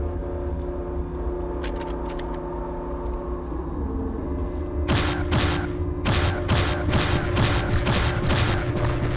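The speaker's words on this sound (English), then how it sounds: "That's a turret? It is definitely a turret." Turret fire in the video game Brute Force, a burst of rapid repeated shots starting midway and continuing loudly over a steady droning game ambience, with brief softer clicks earlier.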